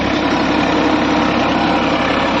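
A Massey Ferguson 245 DI tractor labours while pulling a chisel plough through a field, giving a loud, steady, close diesel drone with no speech.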